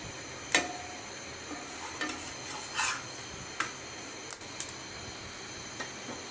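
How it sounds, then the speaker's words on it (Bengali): A roti fries in a pan under a faint sizzle, broken by light, sporadic scrapes and clinks of a utensil against the pan. "এই যে একটা ভাজলাম আর একটা ভাজতেছি"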